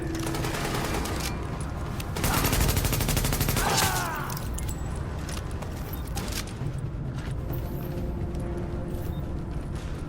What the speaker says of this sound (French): Des coups de feu à la porte principale.